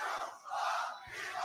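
Crowd at an online beatbox battle small final shouting together in unison, a loud massed roar of voices sustained through the whole moment with brief dips between calls.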